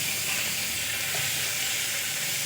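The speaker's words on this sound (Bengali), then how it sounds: "পেঁয়াজগুলো আমি কিছুক্ষণ ভেজে নিয়েছি" Sliced onions sizzle steadily in hot oil in a pan, a soft, even hiss with faint crackles and no voices.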